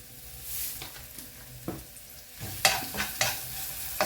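Onions with salt fry in a pan, a soft sizzle broken by several sharp stirring scrapes and clatters that grow louder toward the end, with no talk.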